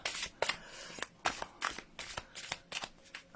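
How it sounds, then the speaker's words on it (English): A deck of affirmation cards being shuffled by hand, a quick series of crisp riffling bursts in an uneven rhythm, close and clear with no talking. "I'm just going to shuffle these"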